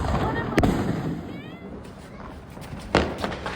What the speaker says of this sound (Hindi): चलो अब छुटाते हैं पटाखे।